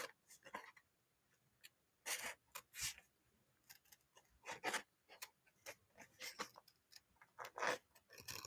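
Scissors cutting paper during a papercraft session, a series of short crisp snips and rustles in irregular bursts, quiet and close with no talk.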